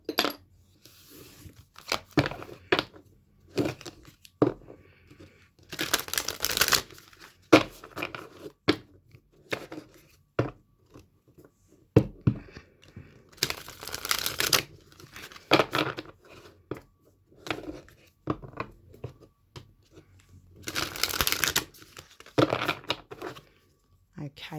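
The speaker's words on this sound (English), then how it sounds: "I'm going to shuffle the Oracle deck first." A Moonology Oracle card deck being shuffled by hand, with three bursts of papery riffling and snapping separated by quieter handling, taps and soft card rustles, heard close.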